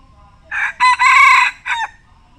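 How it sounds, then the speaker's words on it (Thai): A rooster crows nearby, one loud full call of several stretched, bright segments over about a second and a half, with a short final tail. No one talks over it. "มารีวิวเสียงขันให้ฟังกันนะครับ"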